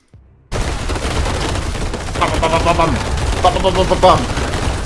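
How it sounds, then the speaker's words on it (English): Landslide Druid attacks in a video game, built as the so-called AK47 build: after a brief quiet start, a loud, continuous barrage of rapid crackling, gunfire-like impacts and bursts, with a voice mixed in. "This is the Landslide Druid, man. Or just call it the AK47."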